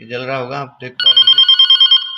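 A telephone handset rings through a CCEO intercom system, a steady electronic pulsing tone in quick repeated bursts that starts after someone speaks, close and loud.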